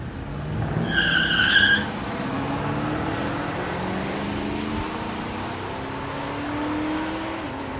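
4th gen Camaro finishing a burnout at a drag strip, a brief high tire squeal near the start, then idling and revving engine rumble that carries on steadily.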